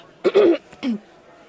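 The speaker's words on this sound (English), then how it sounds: "Sorry, I have a cough." A couple of short, rough coughs close by, two bursts with a brief pause between, alone without talk.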